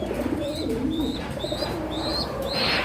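Racing pigeons cooing on a farm, several soft rising coos repeating every half second or so over a steady background murmur.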